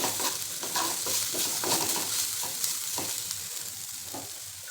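Garlic paste sautés in a pan for a puri bhaji curry, giving a dense, continuous sizzle at moderate volume. A spoon stirs it with soft rhythmic scrapes and there is no talk.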